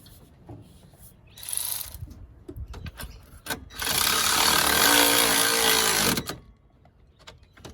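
Ratchet turning a nut on a horn mount in the engine bay of a Toyota Prado 3.0L during a dual battery install, with short clicks then a sustained, loud stretch of rapid ratcheting, no voices.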